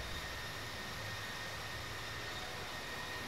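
A single-propeller plane engine in the flight simulator game Infinite Flight drones steadily and evenly throughout, a continuous broadband roar at moderate level with no pauses and no voices.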